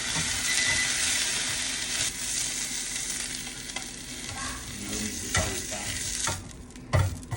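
Vegetables for an omelette frying in a pan, a loud dense sizzle that fills the whole stretch, softening toward the end with a few stirring knocks and scrapes.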